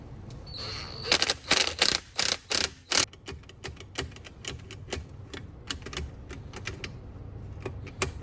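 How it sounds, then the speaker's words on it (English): Gearbox of a Kawasaki KX125 two-stroke engine being rebuilt on the bench, shifted by hand through its gears: a run of loud, close metallic clicks and clunks, heavier at first and then lighter, quicker ratcheting clicks, with no talking. "Oh yeah, that thing shifts nice and smooth."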